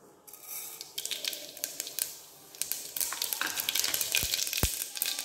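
Mustard seeds splutter and pop in hot oil while keerai kulambu is being cooked, a faint sizzle broken by irregular sharp crackles that grow busier toward the end.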